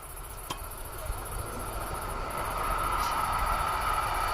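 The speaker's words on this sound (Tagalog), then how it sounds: "Mayroong train na dumaan. Bye-bye train. Mahaba." A long train rolls past outdoors in a steady, continuous rumble and rail clatter that builds slightly louder, with a faint insect-like hiss in the background.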